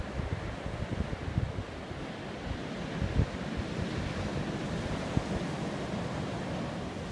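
Choppy sea surf washes steadily onto a beach at Alcudia, Mallorca, a continuous rushing roar of breaking waves with light wind buffeting the microphone and no talk.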